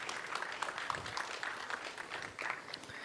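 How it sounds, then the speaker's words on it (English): A crowd at the Bharat Fintech Summit 2023 applauds after a startup demo session: continuous, fairly quiet clapping from many hands, steady and unbroken, heard from some distance with no talking over it. "Let's have a huge round of applause for him."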